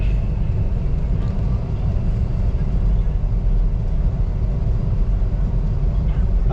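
A small ferry boat carries a bus across a river in the Vietnamese countryside, with a continuous, fairly loud low motor rumble and drone. Faint vehicle and water-craft noise persists evenly throughout, and no clear voices stand out.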